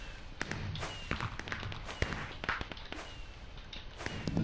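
Fireworks in the Minecraft video game burst in a rapid string of sharp cracks and pops, some louder and closer than others, over a steady low background hum.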